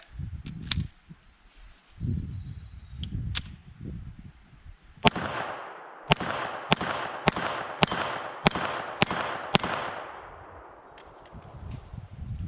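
A Smith & Wesson .380 Shield EZ pistol fires a rapid string of about eight sharp shots at a steel plate tree outdoors, loud and evenly spaced, each crack followed by a ringing decay, after a few quieter handling sounds.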